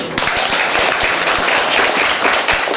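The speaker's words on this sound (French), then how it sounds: "Applaudissez-vous pour vous-même" Audience in a Cameroonian parish classroom gathering applauding themselves, a steady dense burst of clapping that starts sharply and carries on loud and close throughout.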